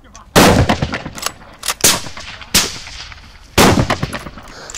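Rifle shots ring out at an outdoor shooting range, four loud sharp cracks at irregular intervals, each followed by a brief echoing decay, with faint chatter between.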